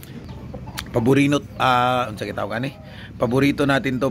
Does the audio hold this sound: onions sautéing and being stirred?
no